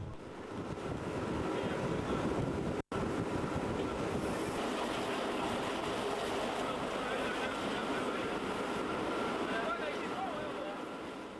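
A Berner Oberland-Bahn metre-gauge train runs steadily through the whole stretch, a broad, constant rumble with heavy wind buffeting on the microphone and one sharp dropout near the start.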